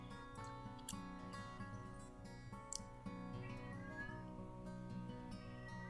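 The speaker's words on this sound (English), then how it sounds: "my cat's meowing outside the door." A pet cat meows faintly from behind a closed door, distant and muffled beneath a steady low background hum.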